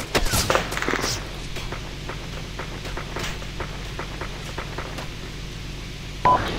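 Tank cannon shots in a tank combat video game, a sharp loud blast at the start followed by a rumbling engine drone, with scattered clicks and thumps and a second short bang near the end.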